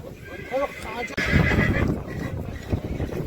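Horses neigh loudly nearby amid hooves clip-clopping, with people chattering in the background of a busy outdoor livestock market.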